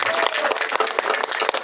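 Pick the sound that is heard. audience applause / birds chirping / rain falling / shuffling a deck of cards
audience applause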